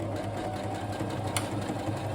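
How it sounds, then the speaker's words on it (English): A sewing machine stitches the back seam of kimono jacket (haori) fabric with a steady, fast, even mechanical hum and rapid needle knocking, close and continuous throughout with no speech. "I'm going to sew the back side of the fabric together"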